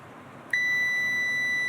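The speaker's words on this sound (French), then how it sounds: "Vous voyez, j'ai le bip sonore encore." Quiet background hiss, then a sudden steady high-pitched electronic beep from a relay tester starts and holds continuously to the end.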